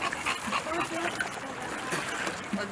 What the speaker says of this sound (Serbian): Ma pazi ga, mali pas!